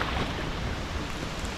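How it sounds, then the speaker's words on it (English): Rain pattering on a Hobie Pro Angler 14 kayak out on the water, a dense steady hiss with wind rumble and no voices. "It is raining right now."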